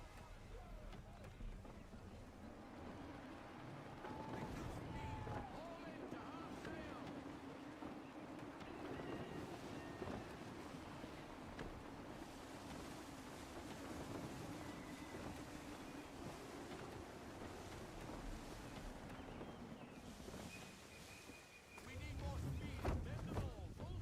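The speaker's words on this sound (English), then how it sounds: "Gusty winds can be difficult to manage." Gusty wind at sea aboard a sailing ship in Assassin's Creed 3: a continuous broad rushing of wind and water with swelling gusts, steady throughout, with a louder low surge near the end.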